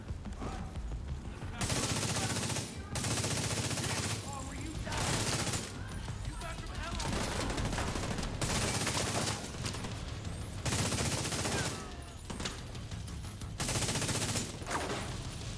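Bursts of rapid gunfire from a video game weapon, loud and repeated in clusters of a second or two with short gaps, firing at enemies during a survival-style shooter session.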